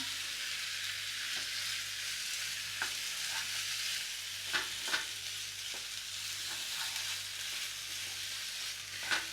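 Green chilli is stirred into a simmering Bombay duck (lote) fish mixture in a pan, making a steady, close hissing sizzle with scattered soft pops and the occasional tap of a stirring spoon.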